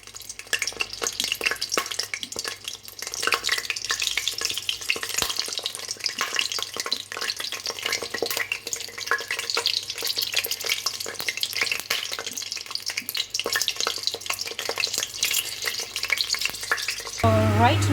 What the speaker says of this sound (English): I'm just dipping inside my chili. I want to fry it a little bit.